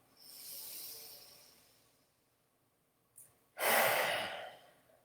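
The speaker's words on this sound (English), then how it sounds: "as you exhale, you're going to stick out your tongue and make a scary sound" A person in a yoga session exhales forcefully with the tongue stuck out, making a scary sound: a long breathy sigh, a short catch, then a loud harsh hissing exhale, close and alone.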